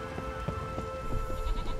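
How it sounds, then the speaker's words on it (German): Rain in The Witcher 3 plays as a steady, dense patter with a constant hiss across the whole stretch, accompanied by a faint sustained tone from the game's ambient sound. "Nee, schon wieder Regen?"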